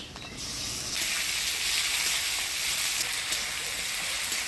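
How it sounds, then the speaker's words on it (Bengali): Chopped onion and tomato hit hot oil in a village-style kitchen, bursting into a loud, close, hissing sizzle that holds steady throughout. "এবারে দিয়ে দিব পেঁয়াজ কুচি। এবারে দিয়ে দিব টমেটো কুচি।"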